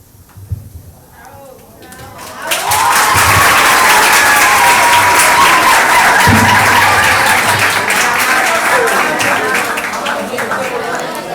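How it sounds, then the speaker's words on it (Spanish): Audience applause in a lecture hall during a discussion on medieval science, rising sharply after about two seconds of faint talk and holding loud and steady, with some crowd chatter underneath. "También se aplaude al compañero que no lo hace tan bien para animarlo, estimularlo a que se suelte"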